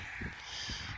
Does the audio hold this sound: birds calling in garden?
yes